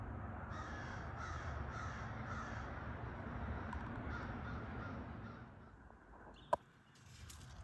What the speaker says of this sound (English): I like to hear crows.